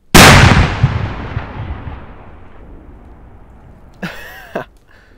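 A New Year's Eve fireworks ball shell bursts at a distance outside a village: one sharp, powerful blast with a long rumbling decay that fades over several seconds, followed by brief voice-like sounds near the end.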